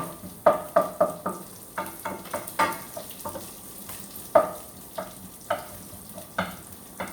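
Garlic and onion sautéing in a pan for pansit, with steady sizzling and repeated scraping stir strokes close by, no talking.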